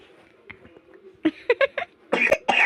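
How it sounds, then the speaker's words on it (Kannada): A person coughs several times in quick, harsh bursts, close up, the fits growing louder toward the end after softer throaty sounds. "ಕೆಮ್ಮು ತೋರಿಸಿದ್ದೆ ನನಗೆ ಆರಾಮಿಲ್ಲ"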